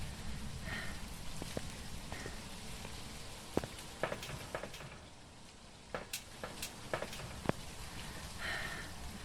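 Rain falls in the ghost-hunting game Phasmophobia, a soft, steady hiss of drops on surfaces with scattered sharper ticks, quiet and continuous throughout.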